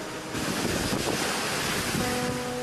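Storm wind and surge waves near the Caloosahatchee River, a loud continuous roar of gusting wind and crashing water with rumbling buffeting against the microphone and no voices.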